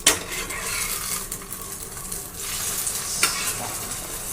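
An egg fries in a pan with a steady, close sizzle, broken by a few light clinks and scrapes of a utensil against the pan.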